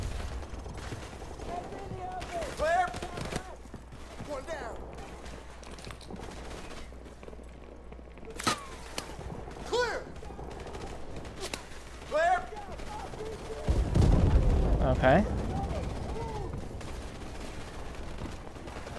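A mounted machine gun fires in Call of Duty: Modern Warfare Remastered, bursts of rapid gunfire and battlefield explosions sounding over a low rumbling engine, with a player talking throughout.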